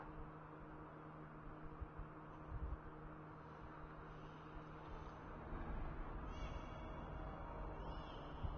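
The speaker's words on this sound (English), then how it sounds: "Hi cats." A cat meows indoors, with harmonic cries near the end over a steady hum like a room heater or fan, and no clear talk.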